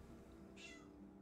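A house cat lets out a single short, faint meow that rises and falls within half a second over a low steady background hum.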